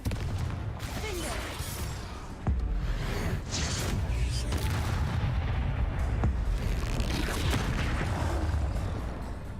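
Confringo blast spell explosions in Hogwarts Legacy, several muffled booms and crackling bursts amid continuous combat noise, fairly quiet overall, with a voice speaking faintly at times.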